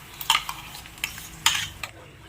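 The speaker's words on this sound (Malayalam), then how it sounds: "അപ്പം നമുക്ക് ഹൈ ഫ്ലെയിമിൽ വെച്ചിട്ട് തന്നെ നമുക്കിതൊന്ന് ഇളക്കി കൊടുക്കാം" A ground masala paste of onion, ginger and garlic is stirred in ghee over a high flame: about five quick scraping clinks of a spoon against the pan over a faint sizzle.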